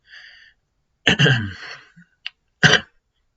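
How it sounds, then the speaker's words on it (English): A few separate coughs or throat-clearing bursts, close and fairly loud, with short pauses between them and a single harsh burst at the end. "Sorry guys about my cough."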